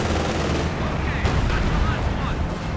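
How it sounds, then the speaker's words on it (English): Strafing gunfire in Company of Heroes 2 during a 1v1 match with a tank destroyer nearby, a loud rapid crackle of shots and rumbling blasts under ongoing commentary. "Bit of strafing going on here, though not really doing anything against the tank destroyer."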